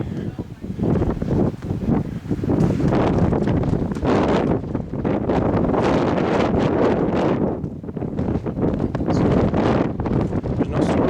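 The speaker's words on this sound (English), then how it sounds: "It's very windy, so it's get very, very windy up here." Strong gusting wind on the summit of Mount Kearsarge, New Hampshire, buffets the microphone with loud roaring rushes, while someone talks underneath.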